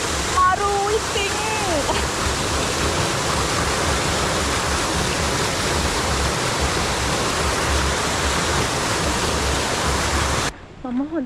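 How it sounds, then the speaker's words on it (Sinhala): A Sri Lankan waterfall roars steadily at close range, a dense unbroken rush of falling water that continues for about ten seconds and then cuts off abruptly. A brief voice is heard near the start. "මේ දියැලත් මේ ළඟම තියෙන්නේ"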